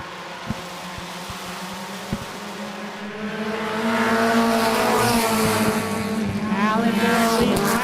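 Compact race cars in a heat race roar around a track, their engines droning loudly and rising as the pack closes in, with tires squealing and a commentator talking over the noise.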